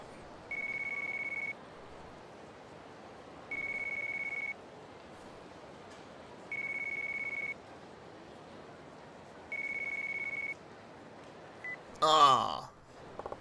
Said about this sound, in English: Oh, convenient. A phone call.